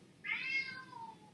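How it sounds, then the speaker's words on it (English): A cat meows once from a nearby hallway where it is shut out, a single drawn-out, falling cry, fairly clear but slightly distant, with no talk over it. "she's still meowing loud enough that I'm sure it's being recorded on this video"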